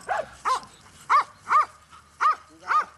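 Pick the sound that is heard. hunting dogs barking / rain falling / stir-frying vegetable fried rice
hunting dogs barking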